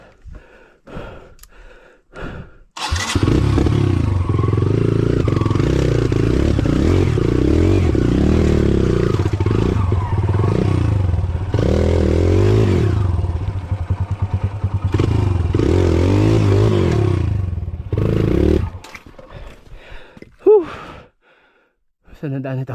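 A motorcycle labors along a slippery mountain trail on Mt Tapulao, its engine droning loud and steady for most of the stretch with clatters and thumps over rough ground before cutting out near the end, with brief voices.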